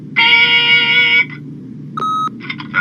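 An answering machine in The Wolf Among Us gives a long electronic beep, then a shorter tone and a few brief warbling blips, loud and close with no talk over it.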